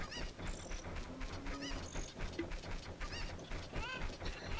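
Cuccos, the chickens of The Legend of Zelda: Ocarina of Time, squawking and clucking in repeated honk-like calls over dense, continuous game music and effects.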